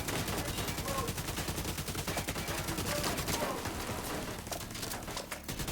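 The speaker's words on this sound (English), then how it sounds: "Somebody on a minigun." Sustained rapid automatic gunfire from a minigun in The Division 2, a dense continuous rattle with overlapping shots that fills the whole stretch, with some voice mixed underneath.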